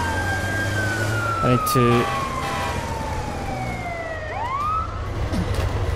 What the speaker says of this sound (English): Didn't realize there's a police car behind me.